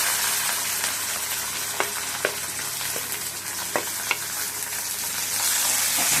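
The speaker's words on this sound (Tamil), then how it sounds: "இப்போ பூண்டு போட்டுக்கலாம். முதல்ல பூண்டு தான் நல்லா வதங்கணும்." Garlic sautéing in a hot pan for a garlic kadayal curry: a steady close sizzle with several sharp utensil scrapes and taps against the pan, no voices.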